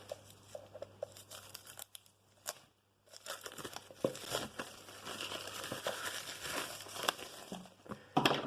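Paper crinkles and tears while a Call of Cthulhu board game is unboxed. Close, dry rustling comes in uneven bursts, with a brief quiet pause partway through and a sharp crackle at the end.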